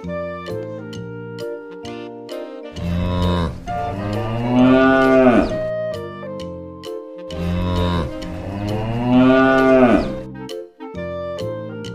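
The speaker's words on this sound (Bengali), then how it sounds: "গরু বাছুর দাঁড়িয়ে আছে।" Two long, loud moos from cattle, one after another, heard over a steady musical background.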